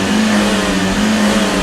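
Loud, close car engine held at high revs with the throttle pressed to the floor, a steady strained roar for under two seconds.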